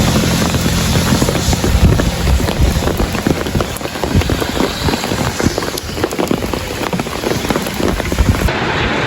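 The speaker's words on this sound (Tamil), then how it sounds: "மழை கொட்டி கொண்டே இருக்குது பாருங்க" Heavy rain pours down steadily in Jaffna, a dense, continuous roar of drops drumming on surfaces, loud and close with no voices.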